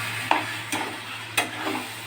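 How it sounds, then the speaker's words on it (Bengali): Chicken sautés and is stirred in a pan for chicken kosha, a low steady sizzle broken by three distinct spatula scrapes and clanks up close. "চিকেনটাকে এখন কষাচ্ছি।"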